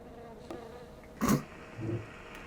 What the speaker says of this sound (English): Why is there a bee in a jar?